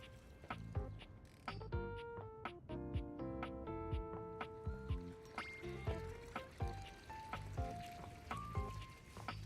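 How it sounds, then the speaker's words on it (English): Running water in the video game Date Everything: a steady liquid flow with bright, tonal plinking drips and trickles repeating throughout, moderately loud and close. "it sounds like water's running"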